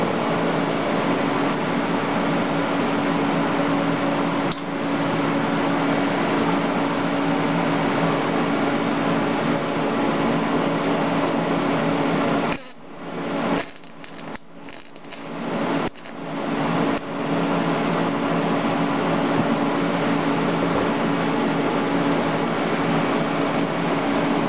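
TIG welding on a nutcracker jig build, a steady, loud continuous hiss and hum lasting most of the time, briefly cut off with a few crackling gaps before resuming evenly.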